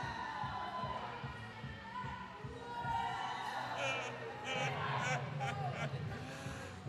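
A small crowd of about twenty people cheers at a roller derby bout, scattered shouts and whoops rising partway through over a roomy background of voices and arena noise.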